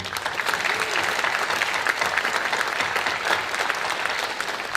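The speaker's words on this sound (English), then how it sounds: "a huge round of applause for our fantastic faculty" At an honor societies induction ceremony, the audience claps for the faculty: steady, moderately loud applause from a seated crowd, even and continuous for the whole stretch.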